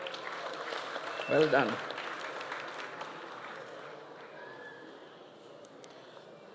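Audience applause at a graduation ceremony for diploma awardees, a broad wash of clapping running the whole clip beneath a PA voice, with a brief spoken interjection near the start as the applause slowly tapers.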